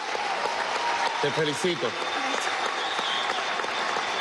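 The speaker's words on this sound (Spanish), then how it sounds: "Otro aplauso a Mati." Studio audience applause for Mati, a five-year-old child percussionist, on a live TV programme, with steady clapping throughout while a voice speaks briefly over it.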